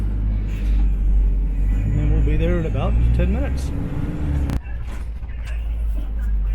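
A bus drives through Hong Kong with a loud, steady low engine rumble and road noise throughout, and a person speaks over it.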